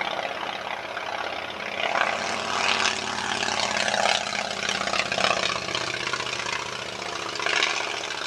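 Vintage propeller aircraft flying at the Shuttleworth air show, a steady, loud engine drone with a rough buzzing tone that swells slightly as it passes, continuous throughout with no voices.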